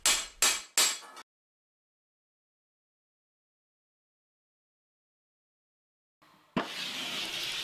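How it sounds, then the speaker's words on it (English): A very broad, smooth hammer strikes an armour poleyn on a ball stake: three sharp metallic blows in quick succession, then silence, followed by a louder rushing, scraping workshop noise. "the piece is given a quick bowing pass where a very broad, smooth hammer is used to strike right onto the ball stake"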